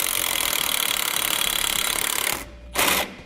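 Fast rattling impact or power driver run tightening bolts for Air Lift LoadLifter air helper springs on a 2016 Ford F-350, a continuous close buzzing burst that stops, then a brief second pulse.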